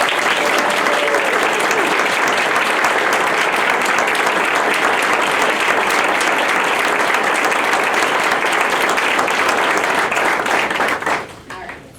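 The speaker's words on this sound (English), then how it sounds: "So a big round of applause for everyone." Loud, sustained applause from the audience at a school board meeting's awards presentation, dense clapping filling the room before dropping away abruptly near the end, with brief voices.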